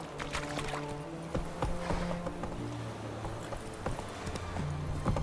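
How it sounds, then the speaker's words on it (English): Horse hooves clip-clop steadily as the horse Roach is ridden in The Witcher 3 video game, a moderate rhythmic trot over a busy bed of game ambience and background tones. "Whoa there, Roach"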